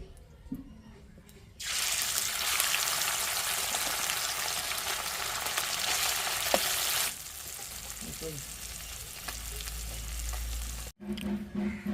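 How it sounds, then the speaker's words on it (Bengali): Loud, continuous sizzling of small fish frying in hot oil in a wok for several seconds, then quieter crackling, with brief handling noises at the start and end. "কড়াইয়ে তেল গরম হয়ে গেছে, এবার মাছগুলো ভেজে নেব"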